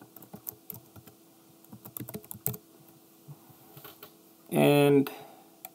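Rapid close clicking of a computer keyboard as a server login is typed, irregular bursts of keystrokes with a short electronic tone partway through.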